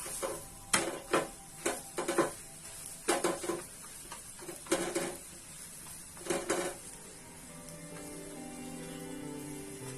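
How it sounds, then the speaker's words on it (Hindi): Leftover roti roasting in butter or oil on a pan, with a faint sizzle under repeated clinks and scrapes of a utensil against the pan in short irregular bursts, then a quieter stretch at the end. "इसमें आप डालिए और इसे दोनों साइड से आप हल्का हल्का गोल्डन होने तक रोस्ट कर दीजिए रोटियों को"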